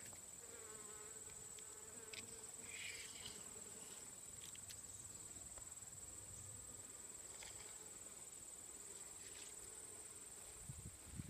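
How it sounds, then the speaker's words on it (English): Honeybees and bumblebees buzz in a garden, a faint, steady insect drone with passing hums close by, under a bright continuous high whine and quiet outdoor ambience. "Here's some honeybees. There's so many of them right here in the back."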